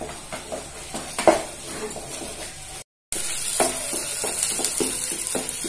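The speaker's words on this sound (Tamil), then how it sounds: "ஆனால் நல்லா சுருளாக வதக்கணும்" Ginger sautés in oil for a pickle, frying steadily in a pan with frequent spatula scrapes and knocks. A brief silent gap interrupts it, then the bright sizzle resumes louder.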